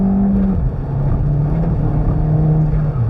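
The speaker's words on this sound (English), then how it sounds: "Spinning in second." A car on Goodyear Eagle F1 Supersport tyres spinning its wheels in second gear, with a loud, steady engine drone that drops in pitch briefly and then holds under sustained load.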